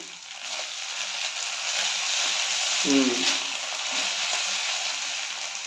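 Goat meat fries with spices in a pan, a steady close sizzle that swells slightly midway, with a brief vocal sound briefly rising above the hiss.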